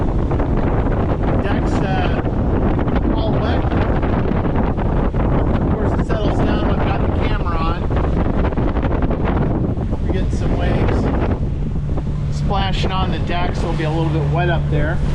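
Strong wind roars steadily across the mic on a sailboat bashing through open sea toward Santa Barbara Island, loud and continuous with someone speaking over it throughout.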